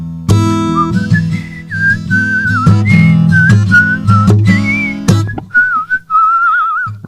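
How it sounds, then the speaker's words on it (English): Roger Whittaker-style melodic whistling rises clear and loud above a strummed acoustic guitar, a steady run of sustained, warbling phrases that fade out near the end. "Whittaker style whistling"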